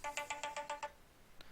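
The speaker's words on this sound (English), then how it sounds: "Sorry about that phone ring right there." Phone ringtone, a quick run of seven bright electronic tone pulses in a fast regular rhythm, then a short pause and one more blip, fairly quiet and with no talk.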